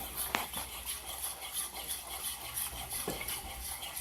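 A spoon scraping and stirring cheese through food in a pan over medium heat, with soft repeated scrapes and a faint sizzle underneath.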